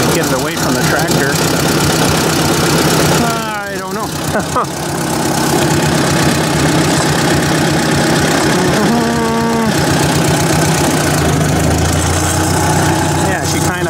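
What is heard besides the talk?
Ford 800 tractor engine running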